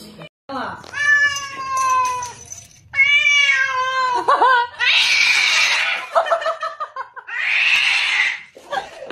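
Several cats meowing loudly in a home, long drawn-out wails and yowls in bursts with noisy hissing-like outbursts between them, close to the microphone.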